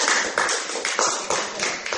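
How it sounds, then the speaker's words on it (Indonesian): A group applauds in a classroom setting, a steady run of sharp, dense hand claps that swells and repeats evenly for about two seconds. "tepuk tangan untuk pada sana"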